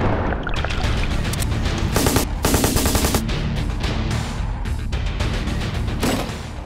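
Sustained automatic gunfire from Russian weapons, loud and continuous, with dense rapid bursts and heavy booming shots layered throughout.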